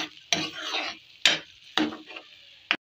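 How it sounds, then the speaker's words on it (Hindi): A spoon stirs masala with turmeric frying in oil for beef paya. The sizzle comes in a few distinct scrapes and bursts, close and fairly loud, with no speech. "और हल्दी ये मसाला हम भून लेंगे।"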